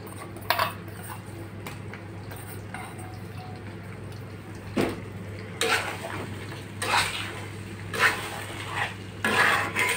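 Grated ginger and garlic frying in mustard oil for a spicy olive pickle, stirred over low to medium heat; a steady low sizzle runs under repeated scraping and clinking of a spoon against the pan, with no talk.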